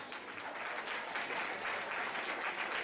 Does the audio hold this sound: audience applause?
yes